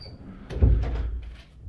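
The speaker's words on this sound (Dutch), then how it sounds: "Trek de pin maar uit de deur, dan gaat hij vanzelf open." A wooden door in a fairy-tale cottage swings open after its latch pin is pulled, heard as a soft nearby knock and thud followed by a short creak and rustle, fairly quiet.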